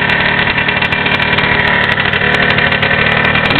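A pipe running machine's motor at dead idle, a loud, steady mid-pitched engine drone that holds constant and close throughout.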